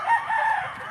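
A rooster crows among many chickens, a single loud, close drawn-out call with a wavering tone lasting about a second.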